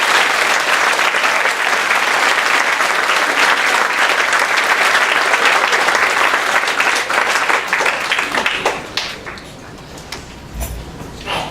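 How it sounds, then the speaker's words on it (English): A school Memorial Day assembly audience breaks into loud, dense applause that holds steady for about eight seconds, then thins out into scattered claps and fades. "I'd like to give, them a round of applause for volunteering to do this"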